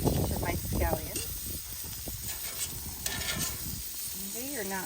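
Zucchini and scallops sizzle on a grill while being stirred and moved, a steady close hiss broken by scraping and clacking of a utensil against the grate.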